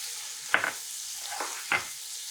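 Shallots and culantro sizzle with hot pork in a pot, a steady hiss broken by three short scraping stirs, close and fairly quiet with no voices.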